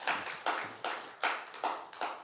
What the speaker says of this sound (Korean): 교사들에게 박수 한번 쳐주세요